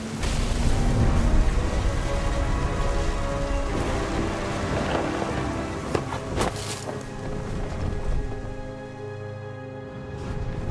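A thunderstorm in the video game What Remains of Edith Finch: steady loud rain hissing over rumbling thunder, with a dense continuous wash of sound and no voices.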